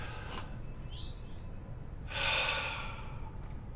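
A deep, close breath drawn and released, a soft airy exhale swelling after a couple of seconds over a steady low room hum, with faint brief breath noises before it.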